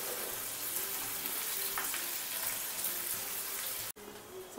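Onion frying in hot oil with curry leaves, a steady, moderately loud hiss and crackle close up that runs continuously with a brief cut near the end.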